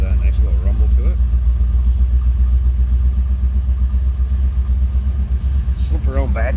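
A 1982 Chevrolet Camaro Z28 Pace Car with a 305 V8 idles with a steady, deep low rumble, close and continuous, and someone talks over it near the end.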